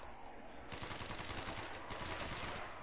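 MP40 submachine gun firing in Call of Duty zombies on the Verruckt map, a dense sustained burst of rapid automatic shots that grows louder after the first moment and continues steadily, with no talking.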